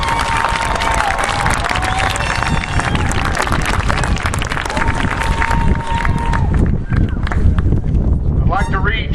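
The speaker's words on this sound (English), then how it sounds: "Let's give the graduates a round of applause" A graduation ceremony audience applauds the graduates in a dense, continuous roar of clapping that holds at full strength and then thins slightly near the end, with crowd noise mixed in.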